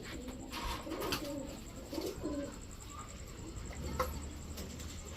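Pigeons coo in repeated low, throaty phrases at close range, sold as Pakistani teddy, racer and high-flyer breeds at a market, with steady background noise and faint chatter.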